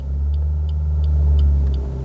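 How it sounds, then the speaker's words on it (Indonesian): Car engine held at around 2000 RPM with the clutch lifted to the biting point for a hill start, a steady, loud low rumble with no talk. "Angkat kopling sampai getar, tambah gasnya sampai RPM 2000-an."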